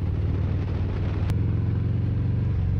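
Loud motorcycle exhaust pipes on a Yakov rumble nearby, a deep throbbing engine roar heard from inside a car, steady with a slight pulse and a brief sharp click partway through, no speech.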